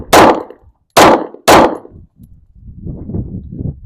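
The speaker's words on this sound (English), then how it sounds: "we're going to use the Sig 320 Compact. Just get a couple shots downrange" Three sharp, loud shots from a Sig 320 Compact pistol fired downrange, the first two spaced about a second apart and the third following quickly, each with a brief ringing tail before quieter background rustle.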